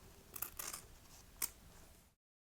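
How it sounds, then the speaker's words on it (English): Scissors snip through a sewn fabric seam edge, trimming it down; three or four quiet close cuts with small rustles of cloth, then silence. "we cut one of the edges down to about 1/2 centimetre"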